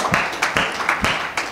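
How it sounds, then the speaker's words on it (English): Church congregation clapping hands in a steady rhythm, sharp repeated claps roughly every half second, close and lively. "Let's clap our hands to the Lord one more time."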